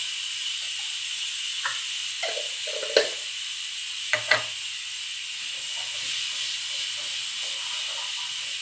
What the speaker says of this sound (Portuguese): A carne está acabando de dourar a carne.